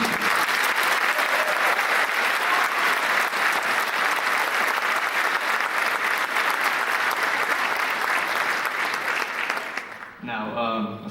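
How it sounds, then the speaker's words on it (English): Sustained, loud crowd applause fills a school auditorium at a National Honor Society induction, steady for about ten seconds before tapering off as the room quiets. "you guys all deserve this upcoming thunderous applause for your accomplishments"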